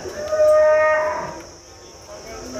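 Holstein Friesian cows low at a busy cattle market, one long, loud moo swelling and fading over a steady crowd murmur.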